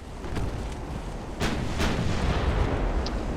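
Naval artillery fire in Ultimate Admiral: Dreadnoughts as a German heavy cruiser from 1910 comes under fire: two heavy booming shots ring out in close succession over a constant rumbling sea-and-battle background.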